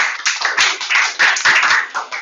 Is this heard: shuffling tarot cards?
no